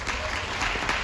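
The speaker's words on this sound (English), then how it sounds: "Please give a big round of applause for Paula." An audience on a cruise ship applauds in a brief, dense burst of clapping from a crowd, with a faint voice mixed in.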